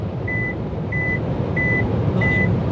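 An MG ZS EV sounds its lane-assist hands-off warning while cruising on a motorway: four evenly spaced, steady electronic beeps over loud, constant road and cabin rumble.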